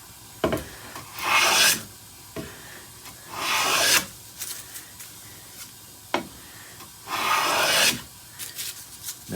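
A hand plane shaves a clear, knot-free pine board in several long, loud rasping strokes with short gaps between them, close up and with no talking.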